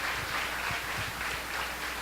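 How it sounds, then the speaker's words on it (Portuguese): A church congregation applauds the name of Jesus during a sermon, with a continuous, even wash of many hands clapping, fairly soft and steady throughout. "comece a aplaudir o nome de Jesus"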